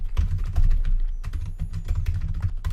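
Rapid, busy typing on a computer keyboard includes a Ctrl+Shift+O shortcut while coding JSP servlets, the keys clattering loud and close in an uneven stream with a brief pause near the middle.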